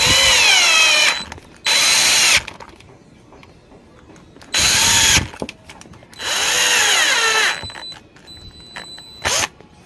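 A power driver runs a screw in while a Bosch GWS 750-100 angle grinder is being reassembled, giving loud, close whirring bursts that rise and fall in pitch, separated by short pauses.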